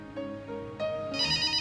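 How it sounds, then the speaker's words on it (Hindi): A telephone rings with bright electronic tones, a short melodic ringtone that grows louder and fuller toward the end. "फोन बज रहा है"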